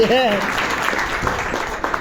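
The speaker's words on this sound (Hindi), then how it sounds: "एक बार उनके लिए भी शानदार ताली होना चाहिए।" An audience at a business seminar in Varanasi claps together in a dense burst of applause, with a voice speaking over the start.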